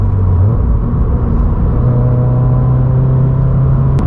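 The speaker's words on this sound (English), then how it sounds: "the more throttle you give, the louder the exhaust gets" A 2022 Subaru BRZ with a MAPerformance exhaust pulls under throttle, giving a loud, close, droning exhaust note. The engine tone shifts slightly early on and then holds steady, with no talking.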